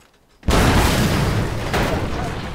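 A door blasts open in the Mad Max video game, a sudden loud boom that bursts out after a brief quiet moment and then rumbles on with a long, dense roaring tail.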